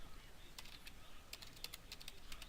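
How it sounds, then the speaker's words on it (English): Keyboard typing while labeling rooms in a floor-plan program: a scatter of soft, quick key clicks, faint and close, over steady background hiss, without speech. "I'll type laundry"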